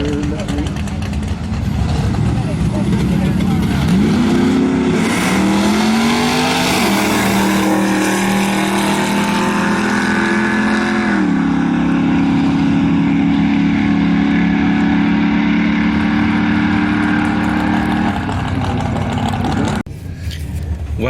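A 400-horsepower Honda Prelude at a drag strip, its engine loud and close as revs climb in rising sweeps through the gears, then holding a steady high drone before cutting off sharply near the end.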